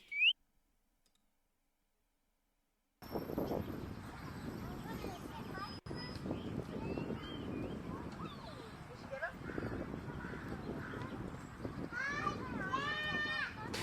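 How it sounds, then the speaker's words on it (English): Children play at a distance in a busy background din of chatter, faint shouts and scattered clicks, following a brief whistle and a few seconds of silence. "I love the kids playing in the background."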